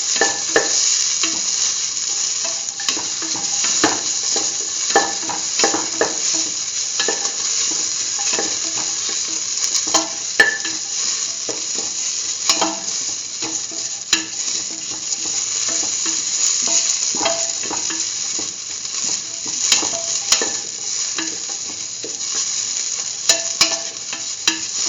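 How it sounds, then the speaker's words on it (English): Tomato pieces sautéing in a pan with a vegetable mixture, a steady close sizzle with frequent crackles and occasional stirring scrapes running continuously throughout, no voices. "Saute the tomato pieces with the rest of the mixture."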